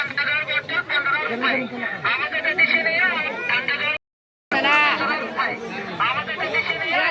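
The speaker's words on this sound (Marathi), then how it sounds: "बघू शकता तुम्ही इकडे पण गर्दी बघू शकता" Crowd chatter fills a riverside spot at a Vitthal temple, many overlapping voices in a steady, busy hubbub close around, with a brief drop to silence midway before the babble resumes.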